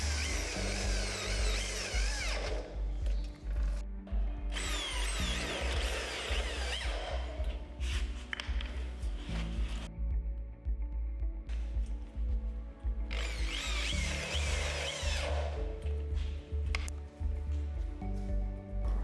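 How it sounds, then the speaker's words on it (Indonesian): A power drill whirs loudly in several long bursts, spinning up and down with short pauses between runs, close by. "kita bor bagian lainnya"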